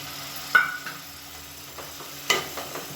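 Ground tomato puree hitting hot oil, a quiet low sizzle with a couple of sharp splashing bursts and light stirring scrapes, close but faint, no voices.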